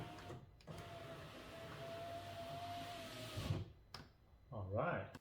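An electric window motor runs in the door of a 2005 Audi B6 A4 1.8T after a regulator replacement, a faint steady whirring hum lasting about three seconds, bracketed by soft clicks and thumps.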